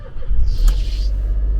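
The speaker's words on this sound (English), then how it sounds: "A little bit of a squeaky belt upon start up, but engine sounds pretty good." A used car's engine starting with a squeaky belt, a loud low rumble that settles into a steady idle while a short high squeal sounds briefly near the start.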